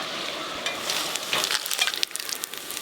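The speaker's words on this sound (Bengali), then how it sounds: "ফোড়নে নিয়েছি গোটা জিরে গোটা লঙ্কা আর তেজপাতা" Whole cumin, whole dried chillies and bay leaf crackle briefly in hot oil as a tempering for a prawn and pointed gourd dish, a close, bright sizzle with a few sharp pops.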